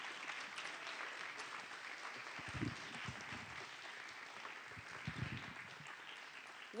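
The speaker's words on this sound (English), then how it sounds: "let's give them a big round of applause" Quiet, steady audience applause at an awards event, a distant wash of clapping with a couple of brief low thumps.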